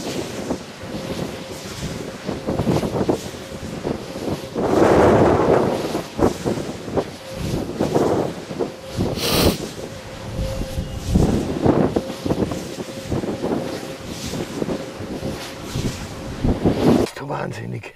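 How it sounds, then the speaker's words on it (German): Wind gusting and whistling across a microphone outdoors near wind turbines, rough buffeting rushes that swell and fade over the full stretch, with a strong surge partway through and a sharper burst later on. "Da pfeift der Wind."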